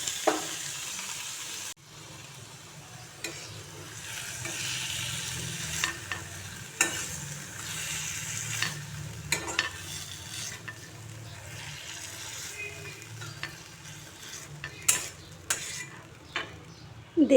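Lightly fried eggplant strips are stirred in a pan, a steady soft sizzle running throughout with occasional scrapes and clinks of a utensil against the pan.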